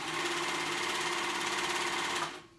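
A serger stitches a jacket piece in a steady, even mechanical hum close up, running alone for a couple of seconds before stopping abruptly.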